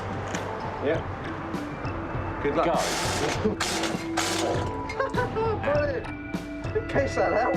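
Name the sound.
impact wrench undoing tank mantlet bolts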